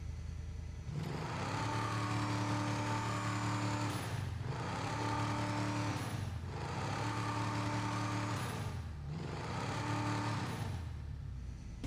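Video game car exhaust running steadily and loud, with repeated engine surges and drops roughly every two seconds as the car revs and shifts, a droning harmonic tone throughout and no talking.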